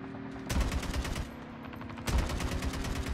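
Two bursts of rapid automatic gunfire in the Call of Duty Mobile battle royale mode, loud and close, with a steady game hum between them.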